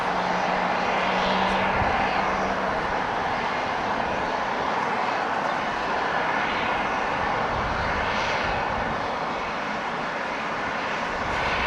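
A Boeing 777 airliner bound for London Heathrow is pushed back at Los Angeles International Airport, and a steady, loud roar of jet engine noise fills the whole stretch.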